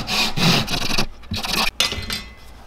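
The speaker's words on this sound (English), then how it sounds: "time to cut the bait in half" A carved wooden swimbait, sanded smooth, being sawn in half by hand, with loud, close, rasping back-and-forth strokes and brief pauses between bursts.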